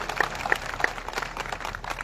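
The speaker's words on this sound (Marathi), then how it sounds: "त्यामुळे सगळ्यांनी टाळ्या वाजून त्यांना शुभेच्छा द्याव्यात." A crowd claps for a candidate at a BJP campaign rally for the Akluj municipal council election, a brief burst of dense, even applause heard close by.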